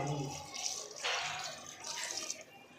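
Water runs and splashes steadily into a pot of half-cooked ridge gourd, with brief louder gushes, close by; no talking.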